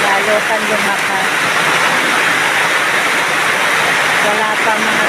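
Heavy downpour roars continuously along with strongly flowing water, a loud and unbroken hiss with no pauses, still intensifying.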